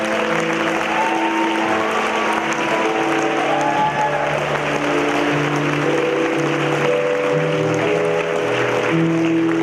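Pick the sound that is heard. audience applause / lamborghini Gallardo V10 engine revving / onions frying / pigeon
audience applause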